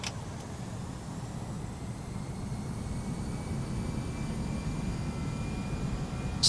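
British Airways A318 jet engines roar steadily at takeoff power in a flight simulator, a constant loud broadband rush with no talk over it.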